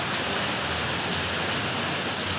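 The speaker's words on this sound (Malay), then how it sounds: "Hujan ni." Steady rain falls during an evening religious lecture gathering in Melaka, a dense, even hiss of downpour with no breaks and no talk over it.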